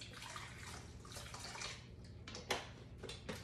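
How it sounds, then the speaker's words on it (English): Water is poured into a Vitamix blender jar for homemade grapefruit juice, a soft, splashy rushing pour with a few sharper splashes near the end, quiet and close, with no talk. "Put water in there."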